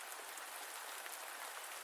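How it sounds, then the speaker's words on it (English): Soft, gentle rain falls steadily as a continuous hiss of fine drops pattering on a surface, even and close, with no voices. "the gentle sound of the soft rain starts to fall"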